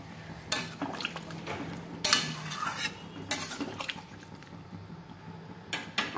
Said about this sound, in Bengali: এবার আমি জল দিয়ে দেবো, এটা একটু পাতলা হবে